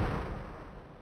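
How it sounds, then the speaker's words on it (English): Odd missile sound effects from the Stunt Island flight game: a loud, rumbling burst that starts strong and slowly fades across about a second, heard alone with no voices. "Weird missile sounds."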